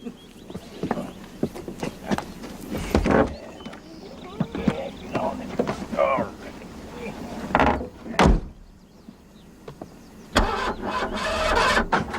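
Doors thump shut and a car engine cranks and turns over amid a morning departure, with people talking over the sounds throughout and a final burst of engine noise near the end.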